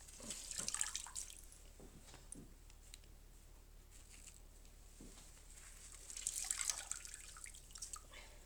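A sponge soaks up liquid from wet handmade paper pulp beneath a lifted decal, giving faint close drips and soft patter that swell in two short bursts, near the start and again toward the end.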